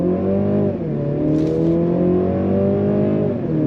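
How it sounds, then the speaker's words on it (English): A 2025 Mercedes-Benz C300 with a 9-speed automatic accelerates under throttle from a light, its engine humming steadily from inside the cabin. The note rises in tone, with a shift heard near the start, and no one talks. "we're gonna go on throttle as soon as this light turns green"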